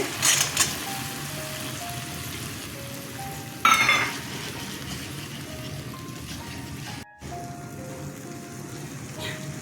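Soaked chickpeas are tipped into spice paste frying in a pan for a vegetarian dish with coconut and milk. A steady sizzle runs throughout, broken by one brief louder splash as they go in.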